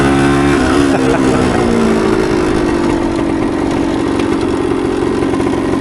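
A 1976 Kawasaki KE100 motorcycle engine revs hard while riding, loud and close, its pitch climbing through the gears then holding a steady, buzzing drone with no talk.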